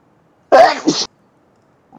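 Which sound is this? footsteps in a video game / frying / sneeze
sneeze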